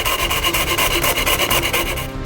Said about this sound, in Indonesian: Kami potong dengan gergaji tangan dari papan serat tipis.